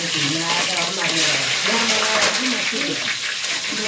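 Cumin seeds crackle in hot oil that already holds mustard seeds, at a village cooking session for pav bhaji. Steady close sizzling and spluttering runs throughout, with someone talking over it.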